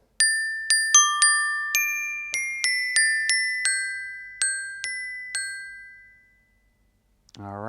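Glockenspiel notes struck slowly one at a time, about a dozen bright ringing tones with long decays, spacing out like a winding-down music box, then a short rustle at the end.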